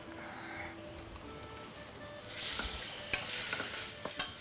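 Chunks of thick pork rib stirred over high heat in a hot pan, destined for a cream sauce: a steady close sizzle that swells into louder spattering bursts and scraping stirs about halfway through, with no talk.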